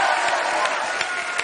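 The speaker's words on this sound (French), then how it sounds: "Applaudissements pour l'âme." A television studio audience applauds in a steady, dense wash of many clapping hands, loud and continuous across a brief moment.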